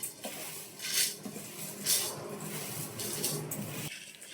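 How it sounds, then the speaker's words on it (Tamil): Rice grains roasting in ghee rustle and scrape in a pan as they are stirred, in rhythmic soft sweeps with light metallic clinks, quiet and close. "இப்போ அரிசி நல்லா வறுத்துக்கலாம்."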